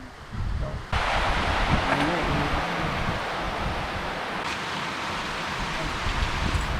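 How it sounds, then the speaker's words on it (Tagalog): Rain suddenly starts falling in the Quezon Province countryside, a broad steady hiss of heavy rainfall that swells in abruptly within the first second and then holds loud and continuous, with faint voices underneath. "Biglang umulan."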